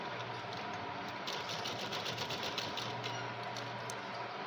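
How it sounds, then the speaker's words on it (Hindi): A sewing machine stitches a piping strip onto a kurti, giving a faint, steady whir with a fast, even needle rhythm that runs continuously at low volume, with no voices. "अब मैं फिर वहाँ पे 1-1 इंच की दूरी पर पट्टी रख रही हूँ और उस पर सिलाई लगा रही हूँ।"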